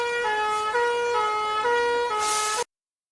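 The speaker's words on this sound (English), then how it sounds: "Soon they hear the siren. Then the fire engine roars up the road" A loud wailing fire engine siren cycles up and down in pitch, close by, with a brief burst of noise before it cuts off abruptly.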